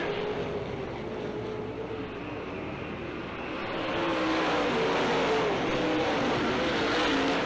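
Late model race cars roar continuously around an oval track in an October 2003 D main, a dense engine drone that swells louder toward the end, heard from trackside.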